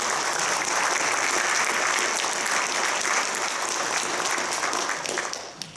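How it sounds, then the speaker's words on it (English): An audience at a school board awards and recognition program gives a round of applause, with sustained, full clapping from a large crowd that thins out near the end. "Let's give them a round of applause."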